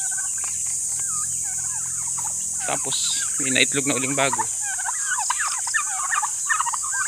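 A flock of about nineteen turkeys, chicks among them, kept with chickens; repeated gobbles and warbling calls sound near and loud under a steady insect-like whine, with someone briefly talking over them.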